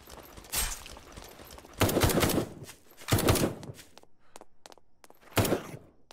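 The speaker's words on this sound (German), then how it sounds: "Nur fall doch um, wie viel Schuss brauchst du denn" Bursts of gunfire from the Night of the Dead survival game come in several separate loud volleys, some rapid and rattling, with short quieter gaps between them.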